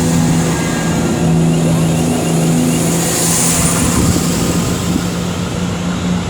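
Class 350 electric trains pull away from Tamworth station, a loud continuous rumble with a steady humming motor whine held level throughout, close by.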